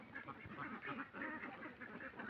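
Ducks at a small duck farm of a few hundred birds quack in a busy overlapping chorus, several calls per second, faint and somewhat distant.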